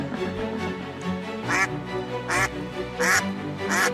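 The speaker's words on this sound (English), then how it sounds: "D. The duck." A duck quacks four times, loud and close, in evenly spaced calls over a constant background of music.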